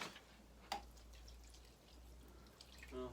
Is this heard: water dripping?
yes